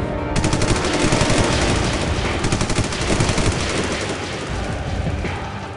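Dramatized militant gunfire aimed at a pilgrim bus near Anantnag: loud, sustained automatic bursts crackle continuously with no voices over them.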